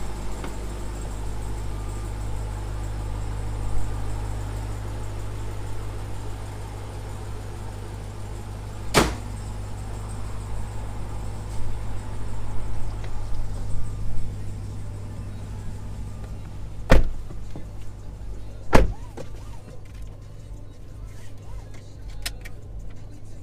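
A 2018 Jeep Trackhawk driving, its engine and road noise forming a steady low rumble throughout from inside the cabin, broken by a few sharp clicks or knocks near the end.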